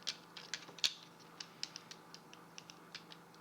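Shoulder cylinders on a Transformers Universe Sunstreaker action figure twisted upward, giving a quiet run of small, sharp plastic ratchet clicks at an uneven pace, close by with no talking.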